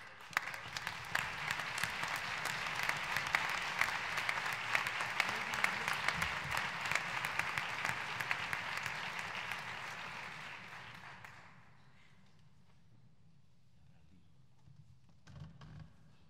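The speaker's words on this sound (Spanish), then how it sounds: "un aplauso para Rubén." An audience applauds at a New Year's concert in Avilés, steady dense clapping for about eleven seconds before it dies away into quiet room tone, with a brief knock near the end.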